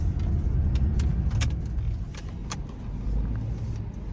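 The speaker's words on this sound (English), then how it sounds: "put my seatbelt on" Seatbelt being fastened inside a car before setting off, a few light clicks and jangling taps over a steady low cabin rumble.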